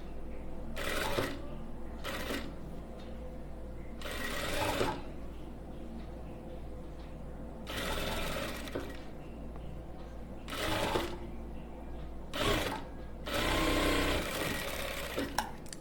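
A sewing machine stitches the side seam of a blouse in short bursts of rapid whirring separated by pauses, close and fairly quiet against a low background hum.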